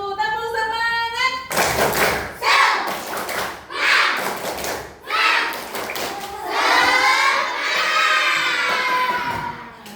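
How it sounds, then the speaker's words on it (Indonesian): Classroom of schoolchildren performing a 'tepuk semangat' clapping chant, bursts of rhythmic group claps and shouted chant phrases in uneven waves, close and lively, after a teacher's sung lead-in. "Coba tepuk semangat dulu."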